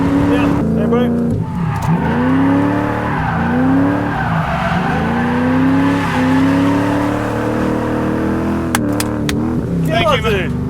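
A V8 Ford Falcon roars nearby, its engine surging and dropping through a handbrake skid as the tires squeal loudly, with voices over the noise.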